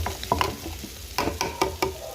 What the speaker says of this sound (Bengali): কাজু পোস্তটা দিয়ে দেবো।